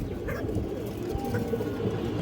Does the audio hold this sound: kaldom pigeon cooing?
yes